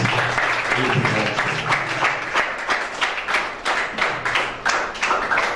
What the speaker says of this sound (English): give a hand of applause to the principal for his eloquent